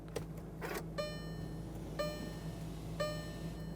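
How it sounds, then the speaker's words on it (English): With the ignition switched on in a 2009-2017 Volkswagen Tiguan with a 2.0L four-cylinder engine, a faint steady electric hum runs beneath three crisp clicks spaced about a second apart. "You can hear the pump pumping."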